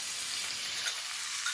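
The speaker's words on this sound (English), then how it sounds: "You can hear that water boiling off." Steady, bright sizzling of onions frying in a hot pan as water boils off, a continuous crackling hiss with a few faint pops, close and even throughout.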